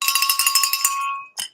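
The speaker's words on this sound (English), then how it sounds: "let me ring the bell" A small hand bell rings rapidly in a bright jingling burst for about a second, fades, then gives one final short ring.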